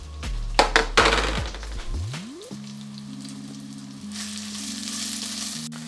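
Chili, tamarind, curry leaves and lemongrass frying in a pan for a Sri Lankan chicken curry, a close sizzle with a few clinks early, then a softer steady fry under a low hum.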